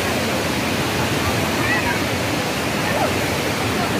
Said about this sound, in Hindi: ये कल कल बहती हुई झरना,